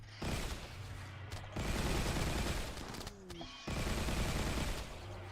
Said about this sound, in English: They're just shooting our own bugs here.